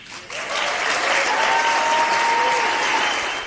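Supporters applaud loudly and steadily at a Trump speech on historic tax relief at a fairground in Indiana, a dense wash of clapping that swells in and holds for several seconds.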